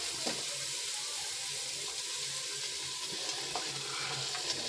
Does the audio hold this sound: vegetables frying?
yes